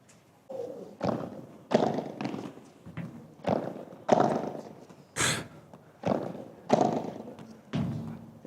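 Padel ball volleys struck in a practice drill, a steady run of sharp, hollow thumps about every half second to second, fairly close with court ambience between hits.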